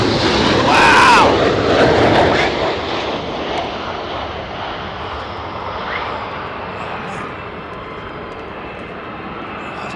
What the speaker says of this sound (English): Look at this F-35, man. Look how high he's coming in from.